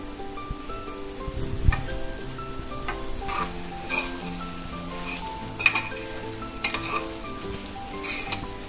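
Leftover rice drops into a sizzling spiced tempering and gets stirred, producing a soft steady crackle with scraping, and a few sharp clinks of a spoon against the pan, fairly quiet and with no talking.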